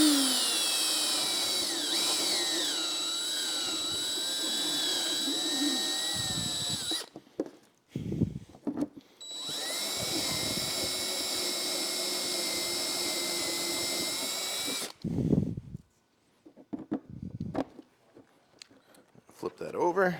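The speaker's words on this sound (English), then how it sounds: "we're going to drill this out to the same size we drilled that one, so 5/8" Power drill boring a 5/8 inch hole through plastic on a 2018-or-newer Honda Gold Wing saddlebag, a steady loud whine in two long bursts separated by brief pauses and clunks, with a voice heard between the runs.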